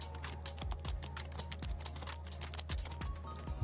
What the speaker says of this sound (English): That's Happy Hacker's keyboard. A really good, really nice keyboard.